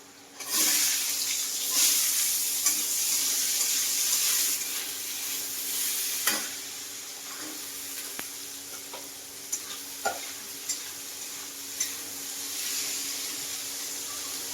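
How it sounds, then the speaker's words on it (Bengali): Chopped onions frying in oil in a pan ahead of cooking meat give a steady, close sizzle with occasional sharp clicks and clatters from stirring, and no voices. "তো পেঁয়াজটা একটু ভাজা ভাজা করে নিই"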